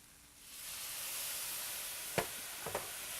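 Hot stock ladled into chicken risotto rice in a hot pan sets off a soft, rising sizzle and hiss, followed by a couple of faint clinks of the ladle.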